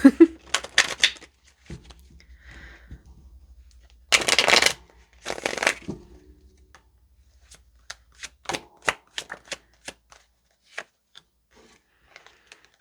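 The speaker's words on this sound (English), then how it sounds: "I'm having a hard time shuffling right now." Tarot cards are shuffled and riffled in several bursts, quick papery rasps and flutters followed by a string of light snaps and taps, close and fairly quiet.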